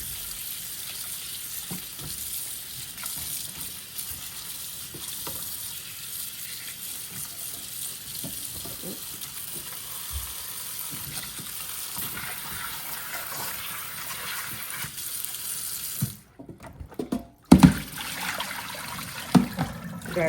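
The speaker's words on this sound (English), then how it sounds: "I'm gonna wash my kale in the sink because I want it to be properly washed." Water from a kitchen sink tap runs steadily while kale is washed, a constant close hiss that cuts off near the end, followed by a couple of sharp handling knocks.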